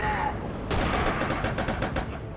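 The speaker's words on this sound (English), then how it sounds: "Stop with the airstrikes!" Airstrike explosions and gunfire in Red Orchestra 2: Rising Storm, with dense rumbling blasts and a rapid string of sharp shots rattling together in a loud, constant barrage.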